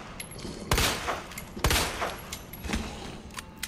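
Gunshots fired in the Resident Evil 2 game, a few sharp loud cracks spaced roughly a second apart, each with a short echoing tail over a low ambient hum.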